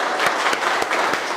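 Audience applause in a motivational session, several sharp, loud claps in quick succession ringing out close by.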